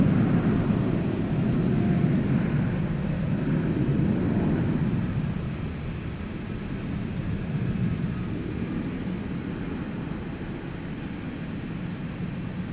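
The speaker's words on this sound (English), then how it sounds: "Victor Courier says FedEx Flight 1058 is coming in from Alliance Airport in Fort Worth" A FedEx cargo jet arrives at Dallas Fort Worth airport after a short hop from Alliance Airport, a broad engine rumble swelling in the first seconds, then slowly fading to a lower, distant drone.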